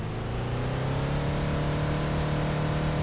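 A Rolls-Royce Dawn 2017 engine in Farming Simulator 19 drones at steady, very high revs, a loud continuous hum held without letup for about three seconds with no talk.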